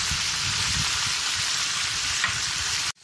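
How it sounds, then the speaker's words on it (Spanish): Mojarra fish fries in hot oil on a wood-fired stove with a loud, close, continuous sizzle. The sound cuts off abruptly just before the end. "miren qué sabroso se mira el pescado dorándose ahí bien rico"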